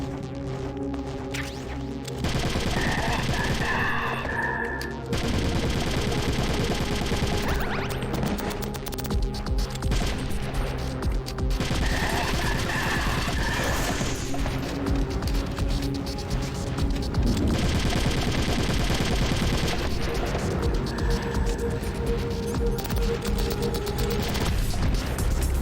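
Sustained gunfire aimed at a statue in Metal Gear Solid: The Twin Snakes, a dense run of shots and impact crashes that keeps going almost without pause, loud and continuous with occasional short gaps.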